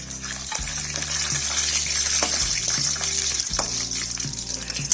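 Bay leaf, cloves and black pepper frying in a reddened masala paste for home-style egg biryani, a loud close sizzle with repeated spoon stirring and scraping strokes, continuous and without talk.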